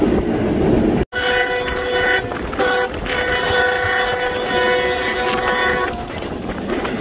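A Pakistan Railway train travelling from Lahore to Karachi sounds its loud, sustained horn for several seconds over the close, constant rumble and clatter of the moving carriages, broken by one brief dropout.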